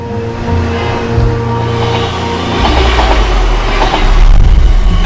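A train at a railway station, loud and close, with a steady low rumble, rhythmic wheel clatter and faint metallic squeals that grow heavier over several seconds, and no voices.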